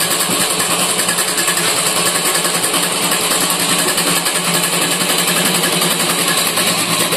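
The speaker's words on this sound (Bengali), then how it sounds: "মেশিনটা স্টার্ট করে নিলাম।" A sewing machine runs steadily at close range while stitching a sack into a shopping bag, a dense continuous rattling whir with fast, even mechanical pulses throughout.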